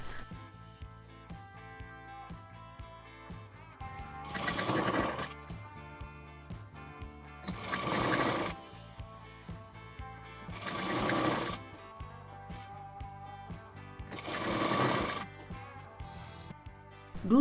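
A sewing machine stitching along the circumference of a round bolster pillow cover, running in four distinct bursts of a few seconds each over a quieter background.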